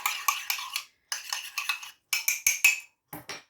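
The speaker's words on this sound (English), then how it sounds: "Now just mix that into your butter and sugar." Egg and vanilla being mixed into butter and sugar for a mug cake, a spoon scraping and clinking against the mug in quick rhythmic bursts with short pauses, close and fairly loud with no talking.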